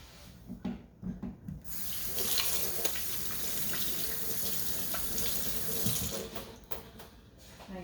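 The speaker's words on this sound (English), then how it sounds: "wash my hands again" Kitchen faucet water runs steadily into a sink while hands are rinsed after handling pizza dough, a continuous splashing hiss that starts after a couple of soft knocks and stays close and even to the end.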